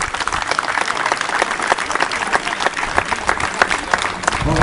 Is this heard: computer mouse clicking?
no